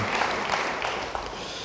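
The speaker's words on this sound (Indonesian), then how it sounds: "Beri tepuk tangan bagi dia." Brief burst of congregation applause during a church sermon, a dense wash of clapping from many hands that stays even for its short length.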